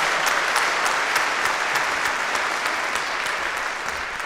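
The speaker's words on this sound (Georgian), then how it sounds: "ყურვალე აპლოდისმენტებით გავაცილოთ ნიკოლოს ხარატი" Steady, dense audience applause fills the room at a televised children's singing contest as a young contestant leaves the stage, holding a full level throughout and easing off slightly at the end.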